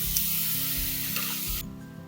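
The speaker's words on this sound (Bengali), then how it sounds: "এবার এতে আদা রসুন আর কাঁচা লঙ্কার পেস্টটা দিয়ে দেবো।" Ginger, garlic and green chilli paste frying hard in oil with browned onions in a home kitchen, a loud, steady sizzle close to the pan that drops slightly near the end.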